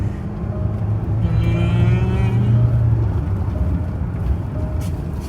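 A luxury car costing 80 lakh rupees accelerating hard, its engine note rising and droning loud and close from inside the cabin for several seconds.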